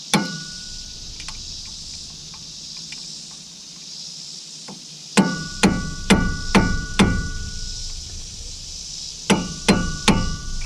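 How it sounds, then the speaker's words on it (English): A hammer strikes a car wheel bearing during disassembly. The sharp, ringing metallic blows land one at a time, first with a single hit, then in a quick burst of about five and a later group of three. "I do have the hammer though. Let's see if we can't try to pop this baby off."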